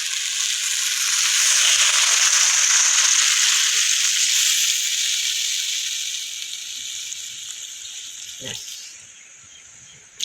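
Water poured into a hot pan of fried pointed gourd for a fish curry sets off a loud, broad sizzling hiss. The hiss swells, then gradually fades as the pan calms, with a brief clatter near the end.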